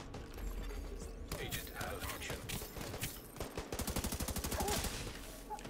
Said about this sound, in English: I should probably reload it before I start shooting at them